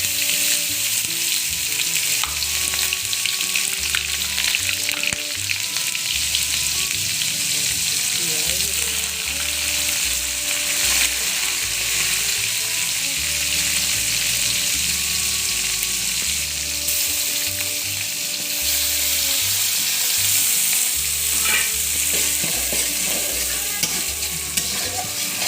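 Chopped onion and dried red chilies fry steadily in hot oil for a chicken curry, a loud, continuous sizzle broken by repeated stirring scrapes, with no talking.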